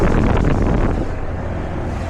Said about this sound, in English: I hear that compressor running.